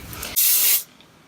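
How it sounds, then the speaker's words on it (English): Kenra 25 Super Hold Finishing hairspray gives one short, loud aerosol burst of about half a second. The hiss is close up and stands alone, with quiet room tone before and after. "I'll just spray it so my hair bow has something to hold on to."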